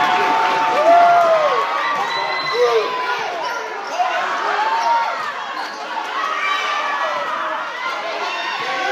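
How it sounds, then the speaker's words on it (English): A gym crowd roars and cheers during a regional final high school volleyball match, with shouts from many voices, sneakers squeaking on the court and balls thumping, all loud and continuous while a commentator talks over it. "Listen to the crowd."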